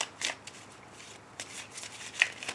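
A deck of love-themed oracle cards is shuffled by hand during a sentimental card reading. Soft, close riffling bursts and light flicks come in uneven spurts, fairly quiet, with no voices.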